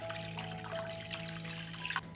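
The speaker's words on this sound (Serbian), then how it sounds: "Sipat ću vodu do visine poklopca." Water pours steadily into a cooking pot holding glass jars set on a cloth at the bottom, filling toward the height of the lids; a continuous close trickle and splash over a low hum, without talk.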